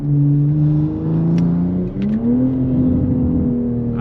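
A 2025 BMW M340i engine revs hard, a loud, close, sustained droning growl that holds steady, dips briefly and then climbs slightly in pitch.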